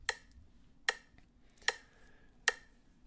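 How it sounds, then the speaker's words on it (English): Four crisp metronome ticks at a slow, even pace of about 75 beats per minute, close and clear against near silence. "I'm going to set it to 75 beats per minute"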